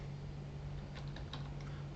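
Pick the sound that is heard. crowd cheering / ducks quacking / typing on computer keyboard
typing on computer keyboard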